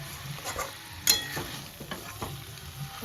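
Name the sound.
stir-frying pointed gourd (potol) with potato and spices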